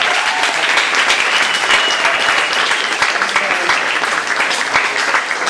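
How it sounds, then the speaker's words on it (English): A student audience in Hamburg applauds steadily, a dense, sustained wash of many hands clapping at close range with no pauses. "Applause for Larry Raigetal."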